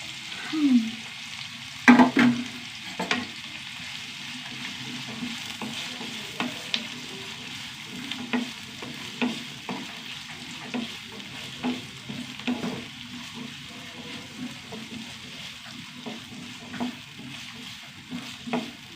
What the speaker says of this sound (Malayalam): നന്നായിട്ട് ഉള്ളിയൊക്കെ ഏകദേശം വഴണ്ട് വന്നു കേട്ടോ